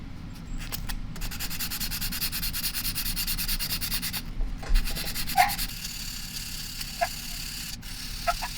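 Hand sanding of a brake rotor with 400 grit sandpaper to remove old burnt lubricant, a steady close rhythmic rubbing and scraping that goes on throughout with no talk.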